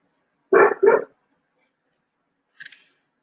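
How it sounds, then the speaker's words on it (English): A dog gives two quick, close barks in a row, then a short faint yelp follows after a pause of quiet. "Excuse my dog barking in the background."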